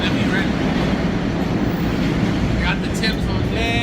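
A fast passenger train runs on its rails toward New York, a loud, steady rumbling roar with a clattering rhythm throughout, and voices may be mixed into the noise.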